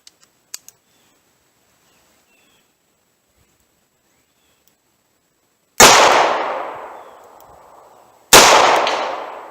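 A .38 Special pocket revolver firing 158 grain hollow point target ammunition outdoors: two loud, sharp shots several seconds apart, each with a long decaying echo, after faint handling clicks.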